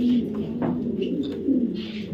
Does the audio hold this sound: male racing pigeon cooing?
yes